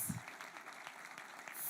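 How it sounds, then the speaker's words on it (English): An audience at a banking conference applauds a keynote speaker from the Bank of Uganda, a steady patter of many hands clapping, faint and distant, sustained throughout without talk. "May we please clap for him until he takes his seat."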